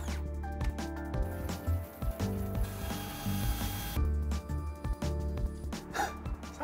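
A Dometic Mini Heki skylight fixing kit is trimmed down by hand during a Mercedes Sprinter van conversion, giving a steady rasping, ratcheting cut with scraping strokes and knocks, close and fairly loud throughout.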